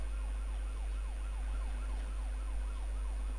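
A fire truck siren wails in GTA San Andreas, a steady repeating up-and-down sweep that stays loud and continuous over engine and traffic rumble, with no talking.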